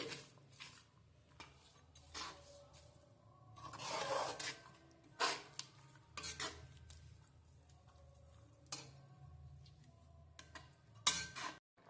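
Carrot halwa with sugar, cashews and raisins stirred in a pan, with soft irregular scrapes and clinks of a spoon against the metal, faint and close with no talking.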